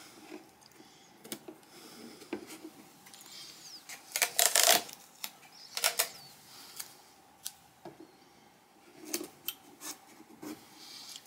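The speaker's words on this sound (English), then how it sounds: "I've got my little tape dispenser here, and we can just put that like so." Binding tape is pulled from a small tape dispenser in a workshop during an archtop guitar body rebuild, giving a series of short, sharp ripping and clicking bursts, close and fairly quiet, with a louder cluster midway and no talk.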